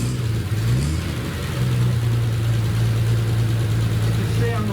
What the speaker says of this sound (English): Okay, we have the ignition on.